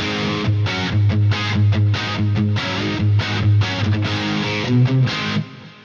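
Heavily distorted electric guitar through Seymour Duncan passive pickups chugs out a rhythmic riff of palm-muted chords, loud and gritty, ending abruptly.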